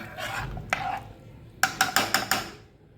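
A spoon scrapes and clinks against a metal cooker while stirring semolina and water, a soft stir followed by a quick run of five sharp scraping taps, close by.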